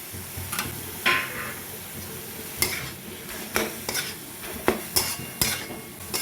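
Grated potato filling for a vegetarian papad snack is stirred and sautéed in a pan, with repeated scraping and clinks of a spatula against metal over a soft background sizzle, close and moderately loud, no talking.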